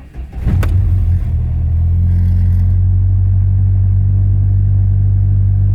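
A cold car engine after a power board repair cranks and catches with a brief rising rev, then settles into a loud, steady, close idle hum that runs evenly to the end.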